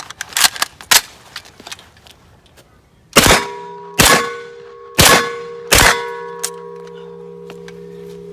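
Four sharp, loud shots ring out from a POF MP5 submachine gun loaded with a standard 30-round magazine, spaced about a second apart, each with a metallic ringing tail, after a stretch of fainter clicks and clatter.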